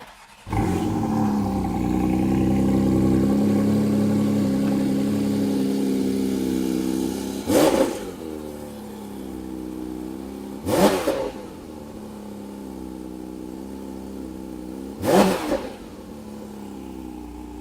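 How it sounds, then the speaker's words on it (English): A car engine idles with a deep steady rumble, then three sharp revs burst out at intervals, each climbing and falling back, close and loud. "You're going to hear, just the incredible engineering of the engine."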